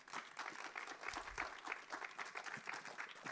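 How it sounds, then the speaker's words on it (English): Audience at a music panel talk applauding steadily for the whole stretch, a dense, quiet patter of many hands heard from a distance with no voices. "Can we give this group a round of applause"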